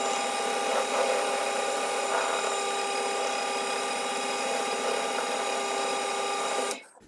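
A power drill bores out waste wood for a three-way woodworking joint, a steady, loud, high whine that runs unbroken for about seven seconds before cutting off abruptly.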